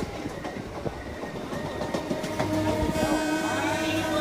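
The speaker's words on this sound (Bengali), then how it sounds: "ট্রেন ছুটে চলেছে।" Train speeding at night along a hilly route through dense forest in a horror cartoon, rhythmic wheel clatter over rails, moderately near, with tonal whistle-like hums entering partway and building toward the end.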